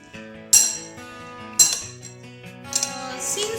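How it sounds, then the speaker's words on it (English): A spoon stirs dry fruit and roasted poppy seeds in a bowl, giving two sharp clinks against the bowl's side and a few lighter taps amid soft rustling. "Mix it well."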